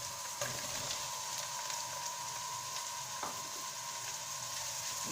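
Mushrooms sizzle in a pan alongside lightly fried onion for a turkey cutlet dish. A steady, soft, even frying hiss runs throughout, with a few faint clicks of movement in the pan.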